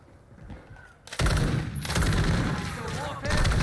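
A RAAL MG machine gun in Call of Duty 2 multiplayer opens up after a quieter second, then fires a loud, sustained, rapid stream of rounds close by, with a voice speaking briefly in the mix.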